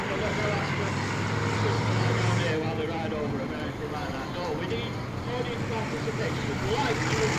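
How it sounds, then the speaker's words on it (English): Monster truck engines rumbling at Santa Pod during a flame and thunder event, a steady low droning roar in the background while a person talks over it close by. "Hopefully you can hear me over the top of the engine noise in the background."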